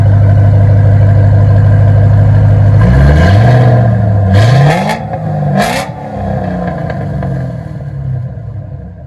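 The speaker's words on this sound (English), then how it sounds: "FLOWMASTER Super 10 on a Saleen Mustang" A 2006 Saleen S281 supercharged V8 Mustang with Flowmaster Super 10 dual exhaust idles with a deep, loud burble, then gets several sharp revs that rise and fall before it settles back to a rumbling idle.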